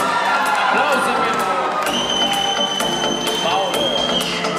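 A school freshman ball crowd at a technical college in Aiud cheers and claps loudly for a performer, a dense continuous roar with whoops and shouts, near and full throughout.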